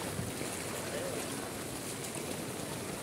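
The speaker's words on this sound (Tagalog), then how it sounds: "Lalakad na sa baha." Steady broadband sloshing and rushing water throughout, a continuous churn of someone wading through knee-deep floodwater in Pasig, with no clear pauses.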